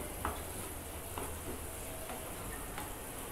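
Spices with turmeric powder fry lightly in a pan for snake gourd kootu. The sizzle is soft and steady, with a few faint ticks from the pan and no talk.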